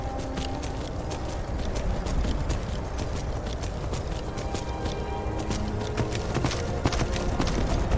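Horse hooves gallop in the video game Skyrim, a fast, even clatter of hoofbeats running continuously and close, with no talking over it.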